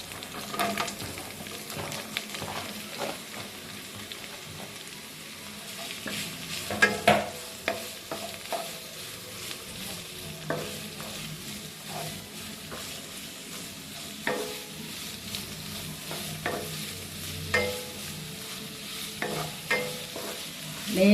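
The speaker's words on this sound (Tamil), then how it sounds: "லேசாக கலர் வர வரைக்கும் வதக்கினா போதும். வெங்காயம் ரொம்ப வதங்க வேண்டாம்." Onions sautéing and being stirred in a pan for wheat balls, a continuous soft sizzle with repeated scraping strokes of a spoon, close and alone throughout.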